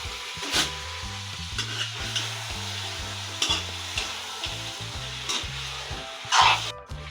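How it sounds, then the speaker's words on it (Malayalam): Chicken pieces sautéing in a pan for a traditional Kerala chicken curry, with a steady close sizzle and repeated spoon scrapes and stirring knocks throughout, and a louder scrape near the end. "പൊടികളൊന്നും ഇടാതെ ഇങ്ങനെ വഴറ്റുവാണ്"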